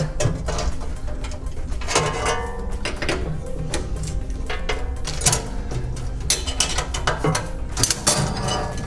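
Fasteners on the particle screen of an STM Revolution 2.0 industrial grinder are loosened, giving close ratcheting clicks and metallic rattles in irregular bursts over a steady background hum, without talk.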